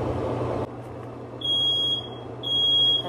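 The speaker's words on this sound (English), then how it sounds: "And I ain't burning that smoke alarm." A kitchen smoke alarm beeps while a cauliflower-crust pizza cooks in the oven: a loud rumble cuts off, then two long, shrill electronic beeps sound close by, with no one speaking.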